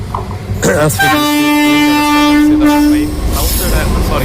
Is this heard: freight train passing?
yes